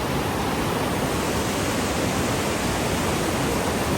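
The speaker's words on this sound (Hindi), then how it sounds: "वो देखिए गर्म पानी" Hot spring water flowing steadily at the Manikaran Sahib gurdwara, a dense, continuous rushing wash that stays loud and unchanging throughout, with no voices.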